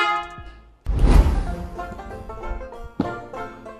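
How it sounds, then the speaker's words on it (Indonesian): A PIAA Superior Bass Horn aftermarket car horn, fitted to a Toyota Innova, blares loudly up close in a few sustained, harmonically rich blasts with short breaks between them. "Terus kita bakal nyoba klakson Pia yang terakhir, Superior Bass Horn."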